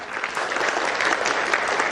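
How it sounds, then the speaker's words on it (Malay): A roadshow audience claps steadily and densely throughout, a continuous close wash of applause with no pauses. "Tepukan pada anda semua."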